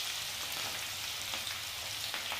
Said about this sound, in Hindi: सबसे पहले हम लहसुन को अच्छे से सेक लेंगे